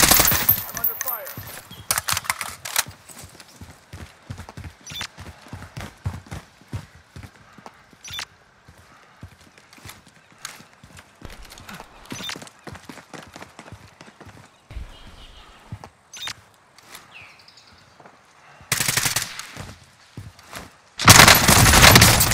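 Rapid bursts of machine gun fire in a Call of Duty: Modern Warfare firefight, sharp crackling volleys scattered throughout with louder bursts near the end.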